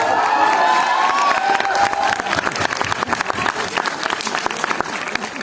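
Audience at a university stand-up comedy show applauds and cheers, a dense crowd roar with whoops that fades gradually into scattered claps, with some shouting mixed in.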